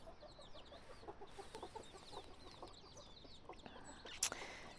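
Hens cluck softly and intermittently at a distance among chicks, with faint chirping birds and a brief sharper squawk near the end.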